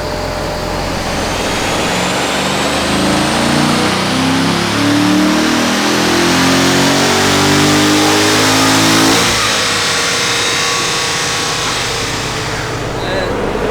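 Car with an RPM Stage 3 setup on a dyno pull, its engine climbing steadily through the gears in loud, rising revs before cutting off and winding down, heard close.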